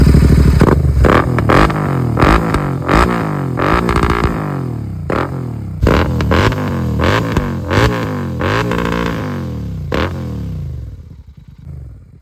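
A Royal Enfield GT650 motorcycle fitted with a Red Rooster exhaust revs hard and close in repeated sharp blips, each rising and falling, with crackles between and a tapering idle at the end.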